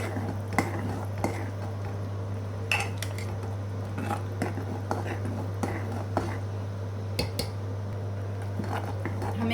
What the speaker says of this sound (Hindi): हमें इसे लगातार चलाते रहना है